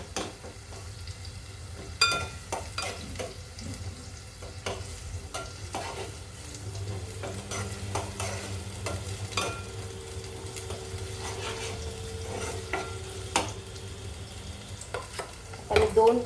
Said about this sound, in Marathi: त्याला थोडीशी तरी आली पाहिजे, म्हणजे चांगलं भाजलं गेलं पाहिजे वाटण